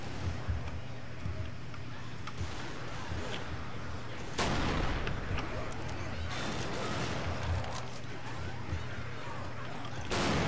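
Dense, continuous gunfire from Left 4 Dead 2 rattles through the whole stretch, with a sharper loud burst midway, layered over a steady low game drone.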